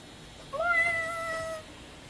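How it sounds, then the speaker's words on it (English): A cat gives a single clear meow, rising then holding for about a second, close and distinct against a quiet room. "Oh, I thought he was meowing."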